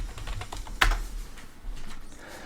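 Fast keystrokes on a computer keyboard, close and distinct, with one sharper clack partway through, while entering a search term in a browser.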